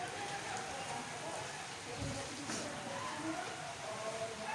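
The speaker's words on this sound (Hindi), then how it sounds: "बारिश फिर स्टार्ट हो गई है" Soft, steady rain patters on a surface in the background, a quiet continuous hiss with faint drops throughout.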